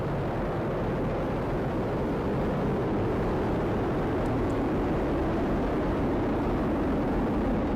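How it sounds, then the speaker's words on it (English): A Falcon Heavy rocket with 27 Merlin engines lifts off, a deep, continuous rumbling roar that is loud and steady with heavy low-end crackle and no voices over it. "All 27 Merlin engines look great. Rocket beginning to roll."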